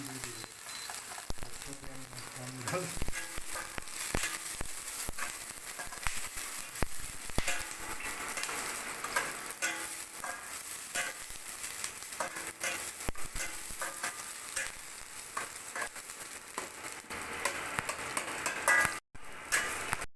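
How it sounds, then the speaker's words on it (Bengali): Chopped onions fry in mustard oil in a hot kadai, giving a steady, bright sizzle that runs throughout, broken by small clicks and scrapes from stirring. "এবার পেঁয়াজটা ভাজা ভাজা হয়ে গেছে"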